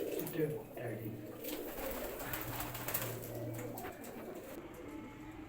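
Pigeons in a breeder's loft in Islamabad, Pakistan, including old Ferozpuri birds, coo in low repeated bursts close by, with someone talking over them and a steady background murmur.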